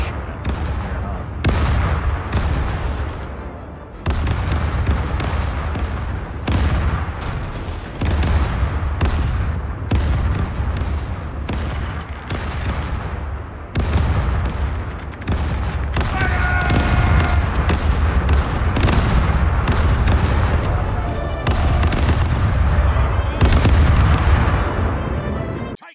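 Ship cannons boom in the naval battle game Caribbean Legend, fighting the Dutch navy: a long barrage of repeated heavy blasts, some in quick clusters, loud and close over a low rumbling bed, with faint crackling tones midway.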